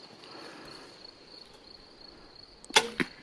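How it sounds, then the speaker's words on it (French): After a quiet stretch with faint insect buzzing, a sharp snap and thud of an arrow striking, followed by a second short impact. "Donc la flèche tape bien le renard"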